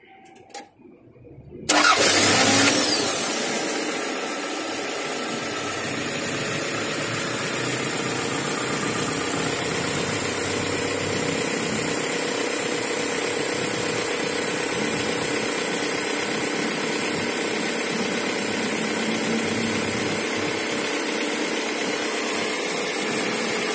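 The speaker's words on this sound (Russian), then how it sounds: "Запускаю мотор." Toyota RAV4 engine cranking and catching with a brief loud rev on a roadside stop after a burst radiator hose repair, then settling into a steady, even idle that runs on without talk.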